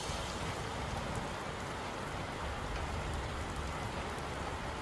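Heavy rain pours down on the wet west coast near Mt Cook in New Zealand's Southern Alps, a dense, steady hiss of drops drumming on surfaces, constant and close throughout.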